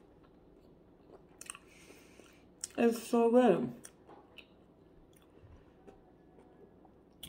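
Someone bites into and chews crunchy food from a grocery haul, with a few soft, close crunches and clicks around a brief spoken comment.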